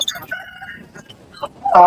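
Chickens, including a rooster, call out at the busy Kunnathur livestock market in Tirupur, with short clucks and a sharp, loud crow rising near the end.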